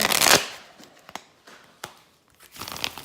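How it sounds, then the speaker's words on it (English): A tarot card deck being shuffled by hand, with a burst of dense riffling at the start, scattered soft card taps and flicks, then another riffle near the end, close and fairly quiet. "I'm having trouble shuffling this deck today."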